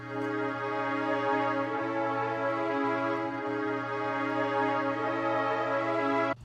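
Drill beat melody loop with EQ and halftime effects applied plays steadily and alone, a sustained layered synth or string chord tone that holds without breaks throughout.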